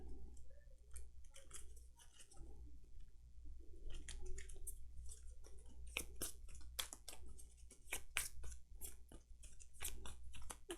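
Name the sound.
playing cards being shuffled into a deck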